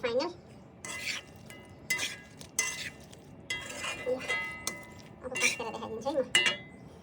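Shrimp and mixed vegetables, garnished with spring onion, are stirred in a pan, giving scattered clinks and scrapes of a utensil against the cookware in short bursts.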